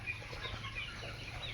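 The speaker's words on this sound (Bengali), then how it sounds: "এই কটা আছে দেশি মুরগি" Around seventy desi chickens on a small farm cluck and scuffle softly, with faint wing flaps and a steady low background hum, no voices present.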